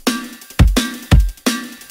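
Drum and bass loop layered with an acoustic drum library kit, a punchy kick and crisp snare hits in a fast repeating pattern, loud and alone with no voices.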